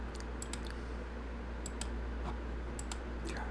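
Faint computer mouse clicks come in small clusters of quick taps spread across a few seconds, over a low steady hum in a quiet room.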